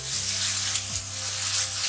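Spices and yogurt fry in a pan with a broad, steady sizzle and a faint low hum, close and continuous with no voices.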